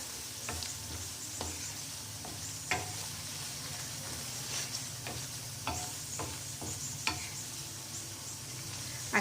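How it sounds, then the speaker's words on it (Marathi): Black chana masala fries gently in a pan while a spoon stirs it, a soft continuous sizzle with scattered scraping taps of the utensil, close and fairly quiet, with no talking. "छान मिक्स करून घ्यायचं, 2 मिनिटं होऊ द्यायचं"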